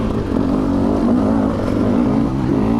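A 2020 Beta 300RR two-stroke dirt bike engine drones and revs loudly and steadily while riding in the mountains, close and continuous with no voices.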